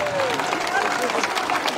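Crowd applause at a political rally in a town square in Trento, a dense burst of many hands clapping with cheers and babble mixed in, fairly loud and continuous.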